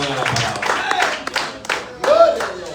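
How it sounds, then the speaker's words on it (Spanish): A church congregation applauds during a service, with bursts of scattered hand clapping mixed with voices calling out. "Demos aplauso al Señor y prestemos atención a la palabra."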